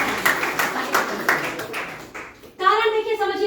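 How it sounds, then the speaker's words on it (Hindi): Audience applause with scattered hand claps at a business success meeting, a steady patter of clapping that fades before a voice starts speaking near the end. "एक बार आपको ताली बजानी चाहिए।"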